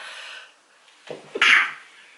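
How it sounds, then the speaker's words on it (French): One sharp, close sneeze, preceded by a short breathy intake, then quiet. "excusez-moi parce que j'ai envie d'éternuer"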